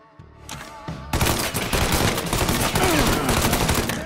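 Gunfire in Mafia 3 starts with a few scattered shots and builds into loud, sustained automatic bursts that fill the rest of the moment.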